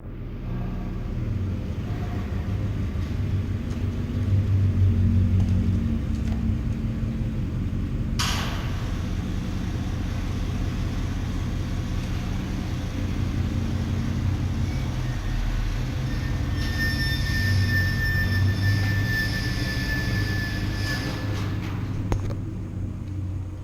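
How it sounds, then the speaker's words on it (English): A truck pulls away and is driven off, its engine a steady low rumble heard close and fairly loud throughout, with a sharp click partway through and a faint high whine near the end. "there goes my truck"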